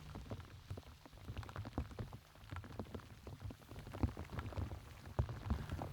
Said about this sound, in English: the rain's really started to come down now